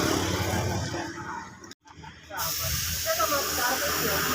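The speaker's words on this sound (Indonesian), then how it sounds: "Nanti kita semproti kurang lebih 3 kali semprotan." Aerosol spray paint hissing in steady bursts while painting a Honda Beat motorbike, broken by a brief silent pause before the hiss resumes, close and fairly loud.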